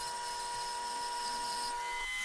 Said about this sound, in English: cut out the vertical supports on the bandsaw